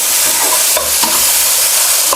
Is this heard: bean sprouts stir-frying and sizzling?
yes